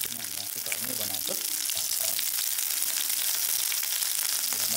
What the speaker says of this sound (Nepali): मजाले फ्राई गर्नुपर्छ।